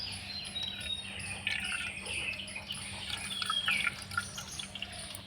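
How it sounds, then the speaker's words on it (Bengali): Raw mango pressed firmly by hand releases faint drips and trickles of liquid, with bright bird chirps outdoors in the background and no voices. "যতটা সম্ভব একদম চিপে চিপে কিন্তু জলটা বের করে নিতে হবে"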